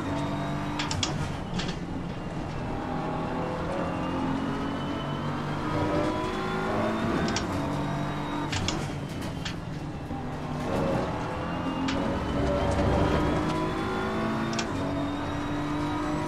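Race cars lapping Monza in the video game Assetto Corsa Competizione, a steady loud engine drone rising and falling through gear shifts, with other cars' engines whining close by.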